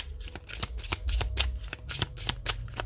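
Oracle cards are shuffled and handled at close range, a steady run of quick papery riffles and flicks over about three seconds, with no voices.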